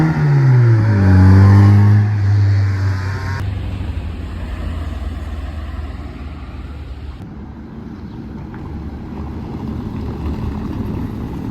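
A Jaguar E-Type V12 drives past during carspotting in Beaune, its engine loud and close at first with a deep rumble, then fading into steady traffic and street noise.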